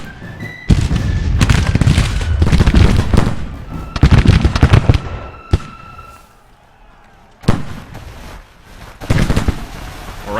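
Volleys of musket and cannon fire in the Civil War strategy game Grand Tactician, loud bursts of crackling shots and booms arriving in clusters with brief quiet gaps between them.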